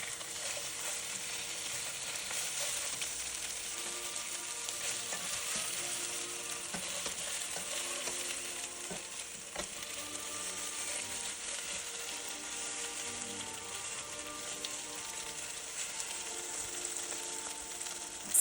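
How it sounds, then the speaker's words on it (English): Coca-Cola chicken wings fry in oil in a pan under a kitchen towel, giving a dense, steady sizzle with small crackles and pops throughout, close and even, with no voices. "To avoid oil splattering, just place a kitchen towel over the pan while cooking."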